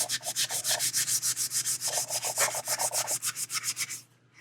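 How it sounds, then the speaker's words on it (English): Rattle-can primer on a figure being sanded by hand, a close, steady back-and-forth rasping stroke repeated rhythmically about five times a second before stopping. "This stuff actually sands really well, so I like it."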